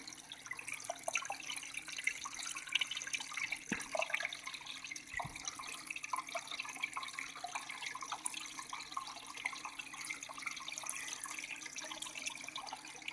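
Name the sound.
spray bar spraying out water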